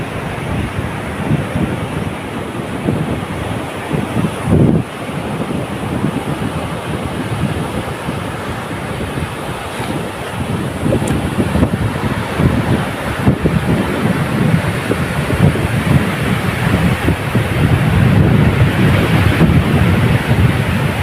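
Sea waves roll in at a beach near Lemery, a loud continuous roar of surf under heavy gusting wind buffeting the microphone, swelling and fading over the span with no talking.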